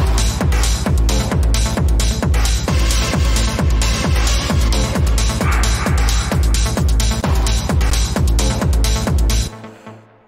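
A hard techno track, produced in Ableton 11, pounds with a steady four-on-the-floor kick under dense, driving synths, loud and continuous until an abrupt cutoff near the end.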